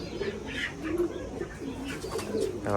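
Old Gauran pigeons in Nashik Road coo softly in repeated low, throaty phrases, close by and fairly quiet, with no talk over them.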